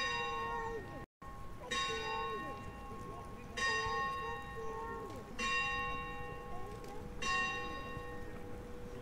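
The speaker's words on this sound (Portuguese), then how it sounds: "Sino da cidade tocando." A town church bell tolls in a slow, steady rhythm, four ringing strikes with long sustained overtones, heard from a distance over street ambience.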